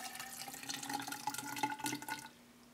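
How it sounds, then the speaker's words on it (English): Water pours slowly into a smart measuring cup, a steady splashing trickle with faint drips that runs for a couple of seconds and then stops, heard close up with no talking. "So if I pour some water into the top of it, then you'll actually see the web page update."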